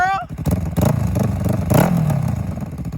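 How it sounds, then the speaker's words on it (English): A Yamaha R3 motorcycle engine revs up close and loud, the rising drone mixed with mechanical clatter, while people talk excitedly over it. "Callie, you revved the bike"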